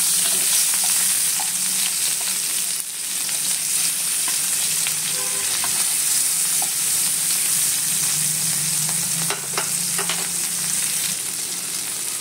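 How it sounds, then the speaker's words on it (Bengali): Bata fish frying in mustard oil in a hot pan gives a steady, loud sizzle that runs the whole time, with occasional crackles and a few soft clinks close by. "প্যান গরম করে তার মধ্যে 2 টেবিল চামচ সরষের তেল গরম করে নিয়েছি। এবার মাছগুলোকে ভাজতে দিয়ে দেবো।"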